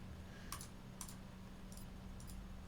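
A computer mouse clicks during a game of FNAF Security, four sharp double clicks spaced about half a second apart over a faint steady hum, with no talking.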